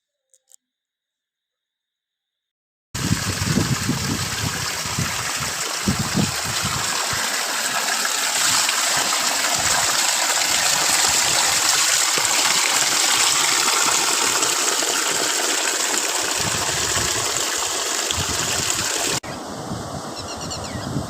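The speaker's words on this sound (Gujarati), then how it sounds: "પાસાવડી નદી જોરદાર જાય છે" A strong river in spate after rain, the Pasavadi river, rushes past with a loud, continuous broadband roar that starts abruptly after a few seconds of silence and holds steady, with a brief change near the end.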